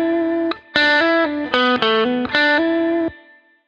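A distorted electric guitar recording run through a compressor with a fast attack plays a short run of sustained notes and chords at an evened-out level, the volume staying fairly uniform until it fades at the end.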